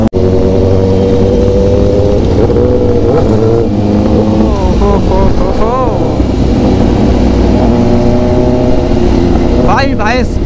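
A Kawasaki Z900 motorcycle engine runs close and loud, its rough idle swelling into repeated revs that climb and fall, with a sharp rising rev near the end.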